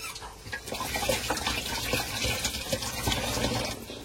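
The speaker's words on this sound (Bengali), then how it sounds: "আমি একটু জামানের টেকনিক অ্যাপ্লাই করে একটুখানি পানিতে ভেজাও, পানিতে ভেজাও" Water runs steadily for soaking, a continuous close splashing flow like a tap filling a vessel, with no talk over it.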